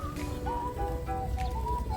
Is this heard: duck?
yes